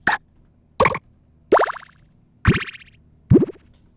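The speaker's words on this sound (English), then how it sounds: "Bubbles." Five separate bubbly plops with a rising, watery boing quality, spaced unevenly and fairly loud, with silence between them.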